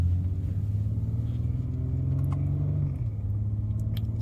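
A BMW X3 M Competition (F97) cruises on the road with a steady, deep engine drone and low rumble heard from inside, the pitch easing down slightly near the end; no voices.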